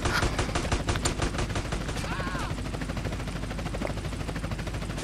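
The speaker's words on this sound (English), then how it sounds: "Please stop shooting me." Rapid bursts of automatic gunfire in GTA San Andreas Definitive Edition, dense and repetitive, with a short whining tone partway through and continuous shooting going on until the end.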